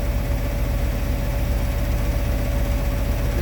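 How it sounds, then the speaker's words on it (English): An engine runs at a raised idle to power an inverter, a steady, loud rumble with a constant hum throughout and no talking. "I had to pick up my idles, I get more power to my inverter."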